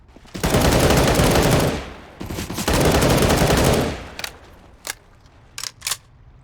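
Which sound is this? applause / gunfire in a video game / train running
gunfire in a video game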